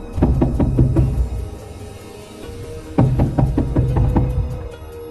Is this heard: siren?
no